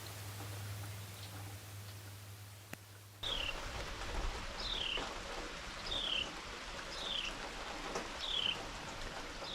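Steady rain on a front porch during a storm, a constant hiss with faint patter, a brief louder burst near the start and a quiet repeated chirp over the wash.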